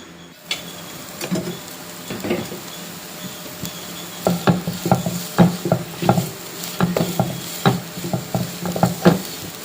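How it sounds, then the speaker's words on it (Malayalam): Banana flower thoran with ground coconut, chilli and turmeric paste is stirred in a pan, giving repeated close scraping and clattering strokes with a soft sizzle beneath, growing busier and more rhythmic toward the end, with no voices. "ഇനി തേങ്ങ ചൂടാകും വരെ ഇളക്കിയിട്ട് വാങ്ങാം"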